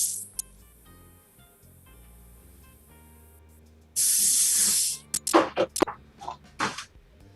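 Cooking oil spray greasing a baking pan: one loud, close hiss lasting about a second, then clattering and knocking in the pan, over faint background music.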